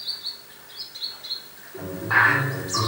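Birds chirp around a pond with exposed mud at low water, high short tweets repeating at a moderate distance, joined near the end by a louder, closer call over faint outdoor background.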